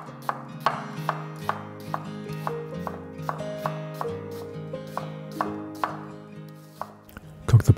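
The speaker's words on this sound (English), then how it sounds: "Half an onion, thinly sliced." A knife thinly slicing half an onion on a board, producing about a dozen crisp, evenly spaced chopping taps close by, over soft background music.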